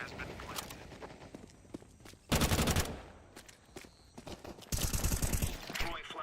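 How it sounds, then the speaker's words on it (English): A flashbang grenade goes off in a tactical shooter video game: two loud, sharp bursts with crackling tails, the second one longer, set between quieter stretches of gunfire and footsteps. "Throwing flashbang."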